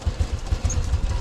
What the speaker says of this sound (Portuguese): Vou aquecer o motor dela para remover o óleo velho, né?